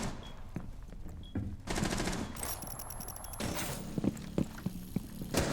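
Automatic gunfire in the tactical shooter Rainbow Six Siege, bursts of rapid shots with sharp clicks and impacts over a steady game background, loud and close.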